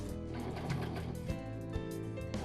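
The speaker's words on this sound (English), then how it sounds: "Now stitch the elastic to the fabric." A Brother 1034D serger stitches elastic onto fabric, its motor running in a steady, close, continuous whir with dense rapid needle and looper clatter throughout, with no talking.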